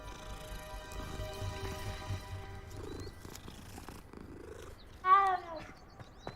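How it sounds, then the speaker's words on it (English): A cat purrs softly while being petted, a low continuous rumble close by with faint background tones, followed near the end by a brief louder cat call. "Always gotta pet the cat."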